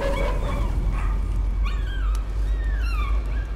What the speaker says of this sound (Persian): سگ بنده خدا رو چرا آتیش زدی؟